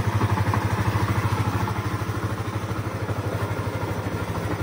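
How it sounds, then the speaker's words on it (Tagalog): A motorcycle engine idles right after starting as it warms up, a steady close throbbing putter with slight clatter and no talk. "paandarin ko muna itong motor. Ayan, umandala na yung motor."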